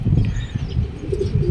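A double-banded racing pigeon at a derby race loft gives soft low cooing, close up, with a faint rustle that could be wings.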